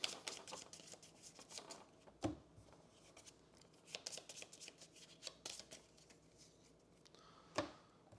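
Board game cards are shuffled close by in repeated quick riffles and flicks, with a few sharper snaps and taps on the table between bursts. The sound is fairly quiet and continues for about eight seconds.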